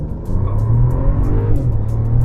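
A 2025 Mercedes-Benz E 450 launching hard from a brake-held start, its engine rising in a loud, close, continuous roar with a steady climbing tone over the short burst.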